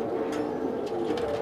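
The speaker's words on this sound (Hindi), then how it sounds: "देखें इसराइली कबूतर हैं" Israeli pigeons coo in a soft, steady, low murmur close by, a continuous warbling hum with a few faint higher chirps over it and no talking.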